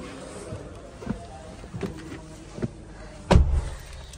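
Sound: getting into a Maruti Grand Vitara SUV, car door

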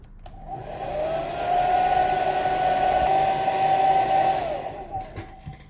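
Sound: hair dryer blowing

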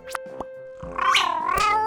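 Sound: cartoon cat meowing for food

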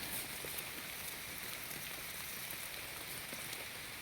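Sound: rain falling

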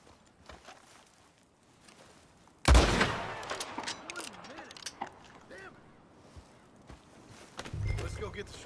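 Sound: gunfire in video game Red Dead Redemption 2

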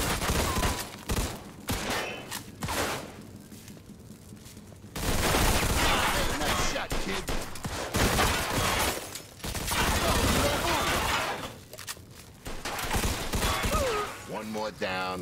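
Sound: gunfire in the video game Mafia 2

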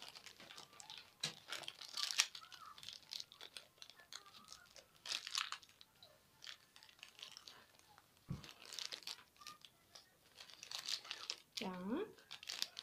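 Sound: crinkling plastic packet being opened while unpacking toys

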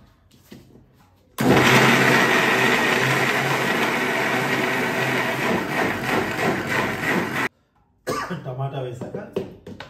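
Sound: mixer grinder grinding tamarind and tomato

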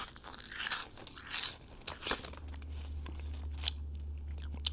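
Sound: crunching Cheetos Mexican Street Corn flavor snack

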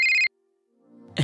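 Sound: phone ringtone

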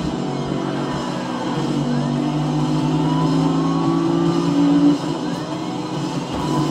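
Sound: car driving in Need for Speed Rivals video game

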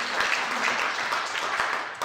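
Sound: audience applause

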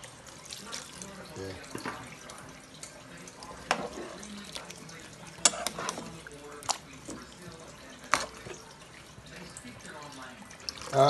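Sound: water being poured into a pot

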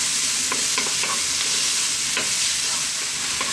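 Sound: onions being tossed and frying in a pan

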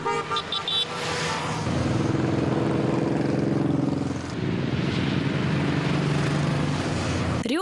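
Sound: roar of many motorcycle engines

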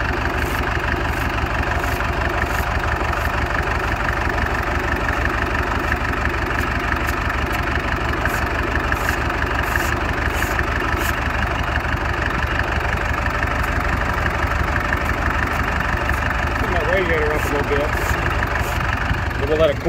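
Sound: 1978 International 500 bulldozer engine idling to cool down

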